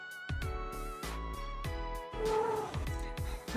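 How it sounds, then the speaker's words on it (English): A cat meows and caterwauls insistently at close range, a series of loud, drawn-out cries with a purring, rumbling undertone, heard alone without talk. "My cat is so needy."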